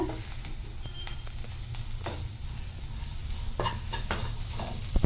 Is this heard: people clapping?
no